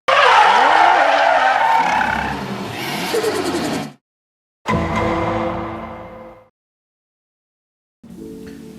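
A 1998 Mercedes-Benz AMG CLK GTR race car in Forza Horizon 5 skids loudly with screeching tires and engine roar, cuts out briefly, then returns with another burst of revving and tire squeal.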